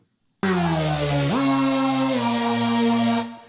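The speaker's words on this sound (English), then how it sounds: "the dominant Hoover sound that we all know and love" A single thick, buzzy Hoover synthesizer note that swoops upward in pitch partway through, holds, then cuts off, heard alone.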